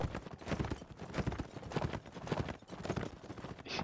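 Rapid, dense hoofbeats of galloping horses in a video game battle thunder continuously amid a busy, noisy mix, loud and steady with no clear pauses.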